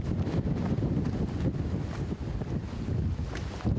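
Wind and heavy waves buffeting a 119 fire rescue boat moored in a typhoon storm at night, a loud continuous roar with gusting microphone wind noise and surging water, without talking.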